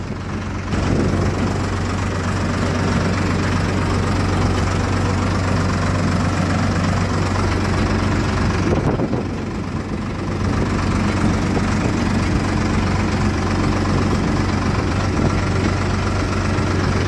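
A tractor engine idles steadily near sugarcane fields, a low continuous rumble with a faint knocking pulse throughout, briefly dipping around the middle before resuming at the same level, with no talking.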